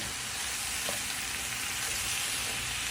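Zucchini wilting in a pan with spices, giving a steady, close sizzle of frying that holds level throughout with no voices over it.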